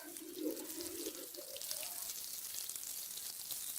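Water poured onto a freshly transplanted eremurus plant in a garden, a soft, steady splashing trickle that runs throughout at low level, with no talking.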